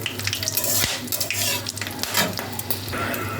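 Bay leaves and whole garam masala with cinnamon and cardamom sizzle and crackle in hot oil in a pan for a sweet Bengali Basanti pulao, with steady close frying hiss and scraping stirring against the pan.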